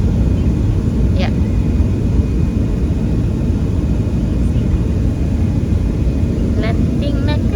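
An airliner landing on arrival in the Philippines, heard from inside the cabin: a loud, steady low rumble that holds throughout, with brief chimes and faint voices over it.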